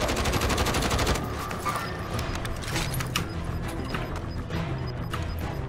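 Rapid automatic gunfire in Warzone rattles in a fast burst at first, then gives way to scattered, sharper single shots at mid distance over game ambience.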